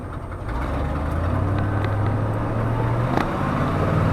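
A 1968 Ford F250 truck engine pulls through its gears, heard as a loud, close drone that holds a steady pitch and then drops abruptly, as if at a shift, before carrying on.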